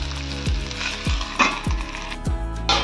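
Potato and bitter gourd fry in a pan with a continuous sizzle, broken by regular low knocks about every half second.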